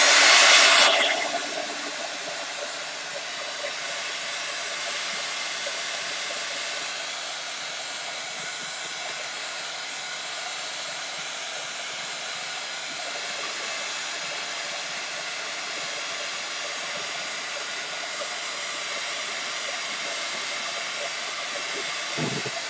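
A heat gun blows steadily and loudly at close range, a continuous airy roar that starts with a brief louder burst and then holds even for the rest of the stretch, with no talking.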